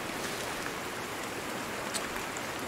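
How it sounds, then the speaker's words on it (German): Steady rain falls in the survival game Sons of the Forest: an even, hissing wash of drops keeps a constant level throughout, alone with no voices or other sounds above it. "Ich meine, es regnet gerade."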